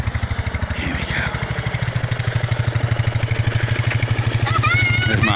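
Small mini tractor engine chugging steadily as it tows a sledge through snow, a close, loud rhythmic putter that runs throughout, with brief faint voices and a high squeal near the end.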